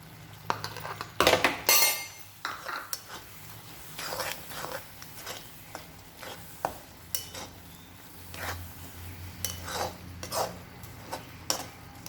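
A metal spoon clinks repeatedly against a bowl while rose petal jam (gulkand) is added to a modak filling with roasted ground poppy seeds, a series of sharp close clinks and scrapes spread irregularly, some louder bursts among quieter taps.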